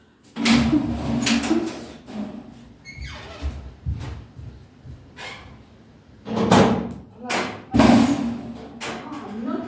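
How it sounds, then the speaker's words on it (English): A door being opened indoors, heard as a few solid clunks and thumps with a creaky scrape between them, close and fairly loud, followed by brief movement noise. "I think I'm going to open the door."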